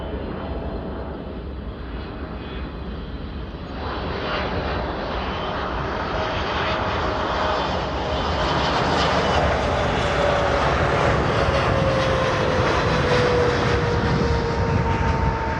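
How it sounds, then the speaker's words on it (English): A Swiss Boeing 777-300ER jet on a runway 10 Center approach into Chicago O'Hare roars steadily overhead, its engine noise building and growing louder through the pass, with a rising whine riding over the broad rumble. "777 3DEER from Swiss, flight 8, coming from ZRH Zurich, coming to ORD Chicago, making a 10 center approach."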